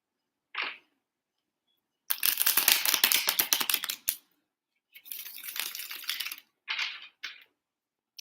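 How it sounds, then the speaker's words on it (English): Bursts of crisp, rapid tarot card riffling, a dense flutter lasting about two seconds, then another longer run, with a few short brushing sounds between. "let's do a nice clean shuffle once more"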